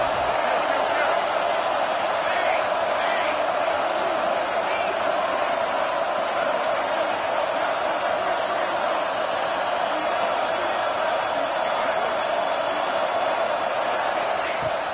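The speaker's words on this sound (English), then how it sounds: "And here comes the noise. This crowd is trying to inspire this defense to make a big red zone stop." A big stadium crowd at a Texas vs Auburn college football game roars steadily, a loud continuous wall of cheering and noise urging the defense on during a red zone stand.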